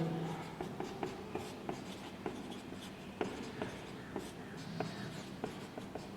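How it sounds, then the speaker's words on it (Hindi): Marker or chalk writing out a maths definition on a classroom board, a series of close, rhythmic scratching strokes and taps, with a faint voice murmuring underneath. "इसकी डेफिनेशन लिखते हैं"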